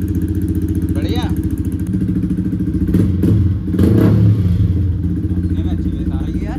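A Yamaha R15 V4 motorcycle with a full-system exhaust idles and gets light throttle blips. The loud, deep exhaust burble rises now and then while someone talks over it.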